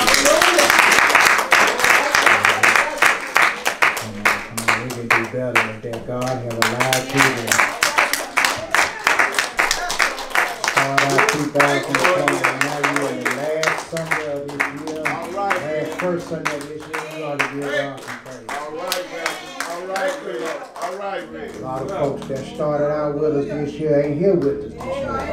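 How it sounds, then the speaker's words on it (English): A church congregation claps hands in steady rhythm during a praise service, with loud, sharp, repeated claps heard alongside singing and music. "Let us praise God with a hand clap of praise"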